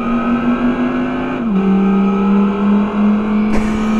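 Electric go-kart driving at speed gives a steady, loud, close motor whine that dips in pitch once partway through, with a brief sharp knock near the end and no talking.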